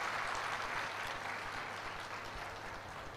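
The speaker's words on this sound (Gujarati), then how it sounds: "એકવાર તાળીઓ એમના માટે થાય." An audience claps steadily for a donor at a rickshaw distribution event, a dense even applause heard from a distance at fairly low level.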